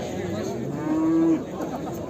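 At a livestock market in Toktogul, Kyrgyzstan, a single cow lets out one clear, fairly close moo midway through, over a low murmur of background crowd noise.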